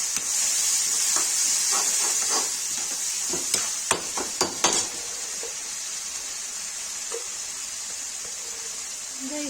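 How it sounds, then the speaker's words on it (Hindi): Tomatoes fry in a hot pan for a Kashmiri-style eggplant and tomato dish, with a constant hissing sizzle and a cluster of sharp spoon scrapes and knocks midway, then the sizzle alone continues. "टमाटर डाल देंगे, इसको भून लेंगे।"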